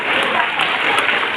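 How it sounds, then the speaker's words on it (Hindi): Children at a summer camp certificate ceremony in Bhilai applaud themselves, a dense, continuous wash of many hands clapping at once, close and loud throughout. "तो अपने लिए एक बार ताली बजाओ"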